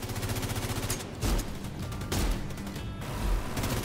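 A Gatling gun in The Division 2 fires rapid, continuous bursts, loud and close, broken by short pauses between volleys, with no talking.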